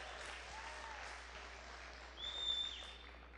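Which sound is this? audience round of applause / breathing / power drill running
audience round of applause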